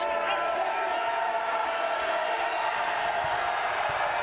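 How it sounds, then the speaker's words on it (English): A basketball arena crowd at an NCAA Division III game between Hope and Trine keeps up a constant roar in the closing seconds, with faint cheering, while the broadcast commentator talks over it. "You can hear the crowd."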